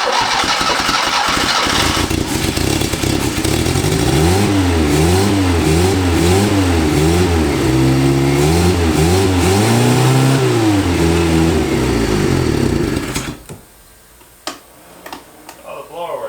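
An abandoned Fiat car, unused for 30 years, cranks and fires up nearby, its engine revving in repeated rising and falling surges before cutting out abruptly, leaving faint ticks and clicks.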